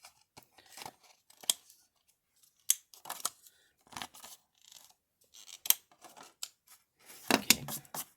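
Scissors snip paper to round the corners of a paper purse, a string of short, crisp cuts in small irregular clusters separated by quiet pauses, close by and alone.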